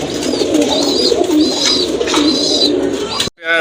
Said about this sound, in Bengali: এটা নর্মাল গোল্লা কবুতরে